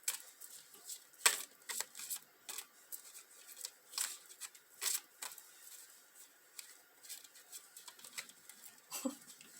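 Tarot cards being shuffled by hand, with a series of sharp crisp riffling bursts and soft paper patter at irregular intervals, close and fairly quiet.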